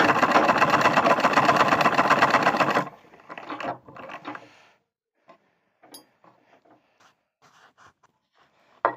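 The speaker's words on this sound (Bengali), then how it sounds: "এতটুকু দিয়ে সেলাই করব।" Close sewing machine running in a fast, steady whir for about three seconds while stitching a fabric bag, then stopping, followed by a few short runs and soft handling clicks and rustles.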